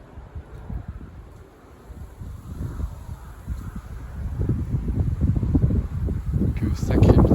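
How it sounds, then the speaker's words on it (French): A strong bise wind blows in rough, roaring gusts that buffet the microphone, building louder toward the end, with no voices heard. "Donc sacré bise."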